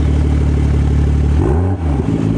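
A loud, raw BMW M140i engine runs with no exhaust fitted close by, a harsh throbbing roar that briefly dips and swells as it's revved.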